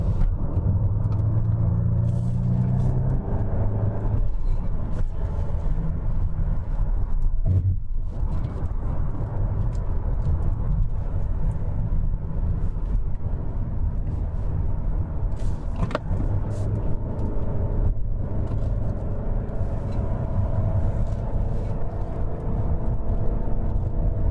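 Caterham sports car driven on a mountain road, heard as a steady engine drone and road rumble from on board, fairly loud and continuous, with gear changes and shifts in engine note but no talking.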